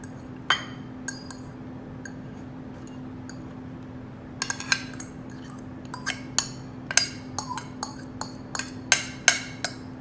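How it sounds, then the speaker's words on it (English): A utensil mixing dill and spring onion into eggs in a bowl, with sparse clinks at first, then a quick run of bright taps against the bowl. "we're gonna just mix the dill and spring onion into the egg"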